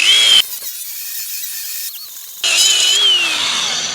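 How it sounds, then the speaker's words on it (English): A power tool's cutting wheel grinds through a rivet, a loud high-pitched whine that drops off briefly mid-cut then surges back as the wheel bites again. "Cut this here rivet off."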